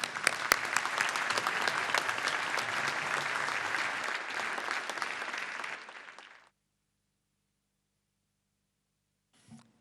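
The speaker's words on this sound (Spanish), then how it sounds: "Con un fuerte aplauso le damos la bienvenida" An audience at a forum in Bahía Blanca claps warmly to welcome the moderator, a sustained burst of applause lasting about six seconds before cutting to silence, with a brief faint sound near the end.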